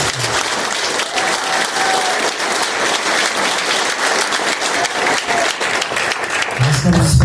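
Steady applause from an audience of employees at a corporate event for the Sanasa team, dense and continuous clapping that holds for several seconds, with a brief murmur of voices near the end.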